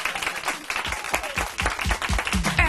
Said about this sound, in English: So can you guys just clap while we play the theme song?